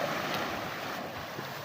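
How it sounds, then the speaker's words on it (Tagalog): Ocean waves wash steadily against the shore under strong wind, a continuous broadband roar with slight surges, fairly faint and with no one speaking. "Yan ang huling alon na doon lumaki ang alon."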